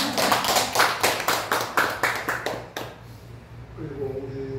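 Rhythmic, evenly spaced clapping from a church congregation during a Korean Sunday service, about a dozen loud unison claps that stop abruptly, followed by a voice speaking.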